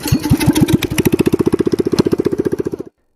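A motorcycle engine cranks over and catches, then settles into a steady idle of even, regular pulses, close and loud, cutting off abruptly near the end with no talk.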